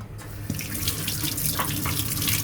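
Water runs steadily from a kitchen tap while leaves are washed, a continuous close splashing hiss with no talk over it.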